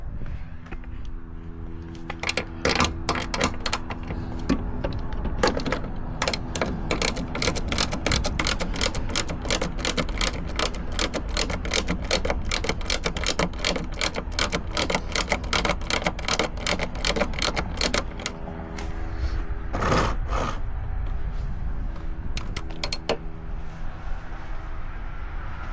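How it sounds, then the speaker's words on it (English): Bolts come out of a Vanagon sliding door assembly as a tool ratchets in quick, rapid clicking runs with short pauses, close by and fairly loud, then slow scattered clicks and a clunk near the end. "I'm taking these two bolts right here out"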